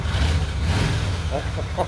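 A 2004 Suzuki Marauder cruiser motorcycle engine rumbles at close range with a steady, loud low throb, and a voice briefly cuts in near the end.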